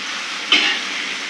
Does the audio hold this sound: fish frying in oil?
yes